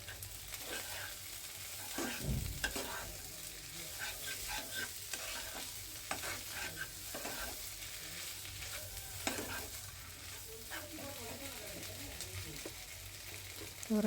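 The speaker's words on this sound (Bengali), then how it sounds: "মাছগুলো দিয়ে ভালো করে মিশিয়ে আমি রান্না করে নেব" Fish cooking in a pan while being stirred and mixed, giving a steady, close sizzle broken by repeated scraping and clattering of the spoon against the pan, with no talking.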